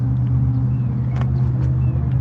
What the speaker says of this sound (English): be hearing a lot of stuff as these cars and stuff go by.